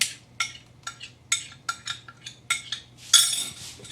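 A spoon scrapes and clinks around a pot of gluten-free thickened sauce in a steady series of sharp taps, close and moderately loud, with a faint low hum underneath and no talking.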